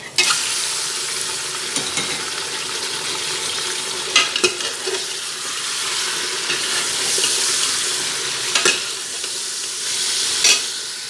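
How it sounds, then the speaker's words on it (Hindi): Chicken pieces going into browned onions frying in a pan, giving a continuous hissing sizzle with intermittent spatula scrapes and clinks against the pan, close and fairly loud, no voices. "मेरे प्याज ब्राउन हो गए हैं तो मैं इसमें चिकन डालना शुरू करती हूँ"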